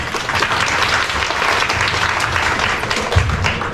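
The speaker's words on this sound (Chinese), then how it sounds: "我们掌声欢" A seminar audience claps loudly and steadily for an arriving speaker, a dense, continuous round of applause with no talk over it.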